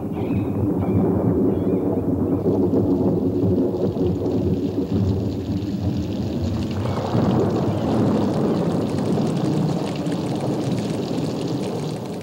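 A growing storm in the wild chimpanzee forest gives a continuous, loud wash of wind and rain noise, a low rumbling roar with gusty swells throughout.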